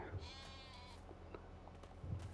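A faint sheep bleat from Farming Simulator 22, quiet and brief, with low background hum.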